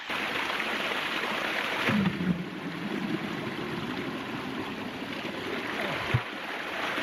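Stream water, steered between rocks, pours into a bucket with a steady, close, broad rushing splash. It runs for the whole stretch, with a couple of brief knocks and no talk.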